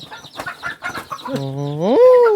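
Chickens give a quick run of sharp, choppy clucks close by, then one bird lets out a longer, rising, drawn-out call at the end.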